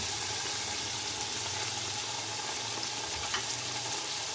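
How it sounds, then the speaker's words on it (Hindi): Onions and tomatoes fry in ghee in a pan with a soft, continuous sizzle and light stirring, quiet and steady throughout. "प्याज टमाटर को हमने घी में अच्छे से भून लिए।"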